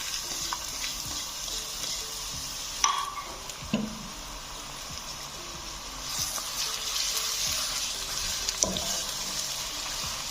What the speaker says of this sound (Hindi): ऑयल हमारा गर्म हो गया है। अब हम इसमें प्याज डाल रहे हैं।